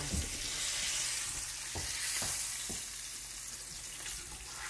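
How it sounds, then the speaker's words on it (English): A chuck roast sears in the bottom of a Dutch oven with a steady, loud sizzle and crackle of fat, joined by a few soft knocks and shifts of the meat in the pan. "Now, brown it real good. We're gonna stick it in the bottom of the pan."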